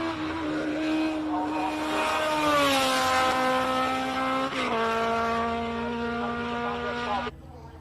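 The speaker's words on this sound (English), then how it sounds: "Charles Arton heading up in his March 79B Cosworth powered March." A March 79B race car with a Cosworth engine climbs a hill with a loud, high-revving wail, rising through the gears with a sharp shift break before cutting off abruptly near the end.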